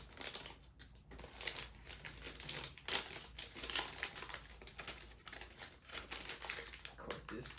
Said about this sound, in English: to actually take out your MRE bag, you tear halfway like this